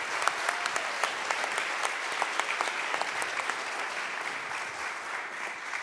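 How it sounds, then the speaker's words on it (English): A town-hall audience at a public safety forum in the Twin Cities gives sustained applause for a county sheriff, a dense even wash of clapping heard slightly distant throughout. "So please, a big round of applause one more time for Sheriff Witt."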